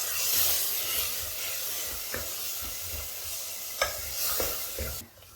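Tomato being stirred into a soya bean masala in a hot pan, a close, continuous sizzle with soft spoon knocks and scrapes at irregular intervals.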